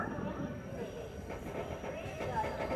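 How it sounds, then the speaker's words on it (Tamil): A passenger train pulling out of Tindivanam station on the Tambaram to Tiruvannamalai line, heard from on board as a steady low rumble of wheels and carriage noise, with faint voices in the background. "திண்டிவனம் ஸ்டேஷன்லேருந்து கிளம்பியாச்சுங்க."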